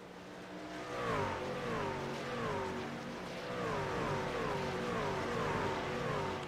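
Race trucks in the AARL Truck Series lap the oval at the Milwaukee Mile, their engines droning steadily with repeated rising and falling pitch sweeps as they pass at a moderate distance, with no talk.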